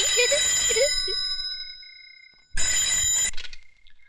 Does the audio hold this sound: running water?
no